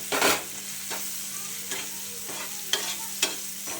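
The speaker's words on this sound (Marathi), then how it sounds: "एकजीव होईपर्यंत आपल्याला तेलामध्ये हे परतत राहायचं आहे" Chili thecha being stirred and fried in oil in a pan, a steady sizzle with several sharp scrapes of a spoon against the pan, no one talking.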